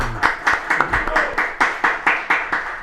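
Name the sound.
audience applause welcoming the Cuban ambassador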